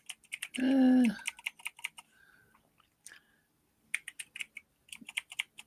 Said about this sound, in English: This is when I just start typing stuff.